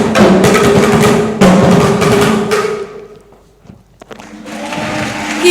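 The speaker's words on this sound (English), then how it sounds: "Keep clapping, keep clapping" Audience applause at a closing ceremony, loud and dense clapping from a crowd that fades briefly in the middle, then swells again toward the end.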